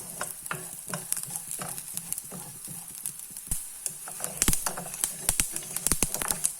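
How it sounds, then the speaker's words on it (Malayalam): Mustard seeds spluttering and popping in hot oil while making kuzhi paniyaram, with sharp irregular crackles over a steady sizzle, close by and growing busier toward the end; no talking. "കടുക് പൊട്ടുമ്പോൾ നമുക്കിത് നിർത്താം."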